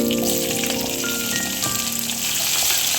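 Onions sizzling in hot oil for Uttar Karnataka badanekayi ennegayi, a steady, loud, close frying hiss with dense crackle throughout and no pause.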